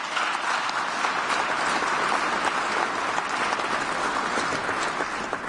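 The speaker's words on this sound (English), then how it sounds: "you can clap" An audience in the House of Representatives chamber breaks into sustained, dense applause, steady and fairly close, with no other sound standing out.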